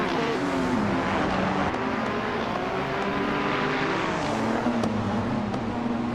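Race car engine in a racing video game, a continuous loud droning roar rising steadily as the car accelerates along the track, steady and close throughout with no talk.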